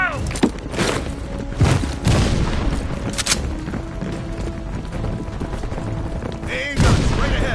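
Gunfire and explosions in a Call of Duty battle, with booming blasts and rattling shots repeating over a dense, loud battlefield din, interrupted by brief speech.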